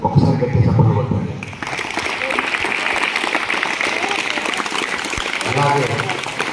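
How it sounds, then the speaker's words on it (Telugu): A school audience at a Ratha Saptami celebration claps loudly, a thick, sustained patter of many hands that follows a man's brief speech and continues without a break. "ఒకసారి గట్టి చప్పట్లు కొట్టండి"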